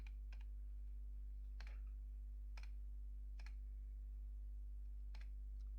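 Data being entered on a computer keyboard for roll sales in corrugation and reel trading software, a few sparse, quiet keystroke clicks spaced irregularly over steady low background hum, with no talking.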